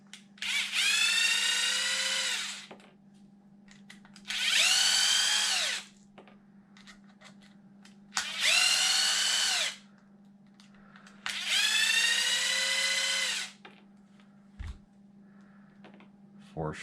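A power drill backs four screws out of a Tekno MT410 RC car center differential: four separate loud whirring bursts, each a second or two long, with short pauses between, close up over a steady low hum.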